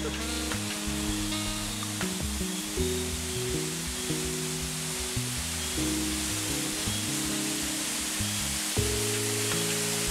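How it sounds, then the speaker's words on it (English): A restaurant waterfall in Grenada pours steadily in a broad, even hiss that persists throughout, with low tonal music or hum beneath it. "the sound of the waterfall while you're dining"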